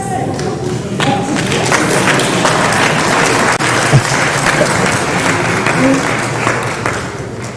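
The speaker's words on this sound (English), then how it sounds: "A hand clap for Dr. Joseph" An audience applauds Dr. Joseph at a certificate presentation, dense sustained clapping with a few thumps and voices mixed in throughout.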